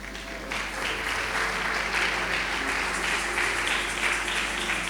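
A church congregation breaks into loud, sustained applause that holds steady for several seconds and fills the room, with a faint voice beneath.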